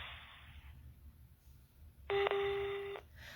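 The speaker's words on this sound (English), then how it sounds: "Please leave a message at the tone" A telephone line sounds a voicemail message tone. A brief steady tone comes first, then a quieter pause, then a louder sustained electronic beep lasting about a second over faint line noise.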